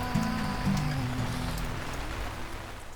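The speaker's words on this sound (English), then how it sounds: "it is raining outside, and it is coming down." Steady rain coming down outside on a summer day, a continuous broadband hiss of drops on surfaces that holds level throughout, with a brief low tonal sound near the start.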